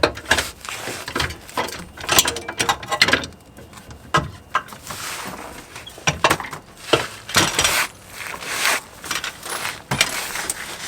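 An old rear sway bar is worked loose and pulled out from under an Audi/VW, with a series of close metallic clanks, knocks and scrapes in irregular bursts and no talking.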